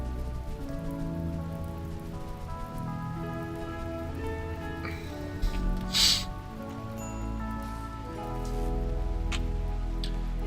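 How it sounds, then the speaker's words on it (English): Steady rain falls in the video game RimWorld, a dense, even hiss that continues throughout over a low musical backdrop, with a brief brighter burst midway. "Oh, it's raining. Thank God. The fires will put themselves out."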